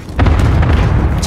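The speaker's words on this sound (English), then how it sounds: "Enemy cluster strike incoming." Cluster strike explosions in Call of Duty Modern Warfare hit as a loud, deep boom with a few crackling bursts layered over a rumbling tail.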